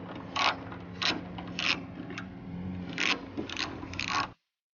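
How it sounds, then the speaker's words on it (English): An 8mm socket wrench ratchets out grille bolts on a Mercedes E550 in several short, close clicking bursts with brief pauses between them, and no voice over them. "removing the few bolts that are holding the grill in place. And the tool that you're going to be needing is an 8mm socket."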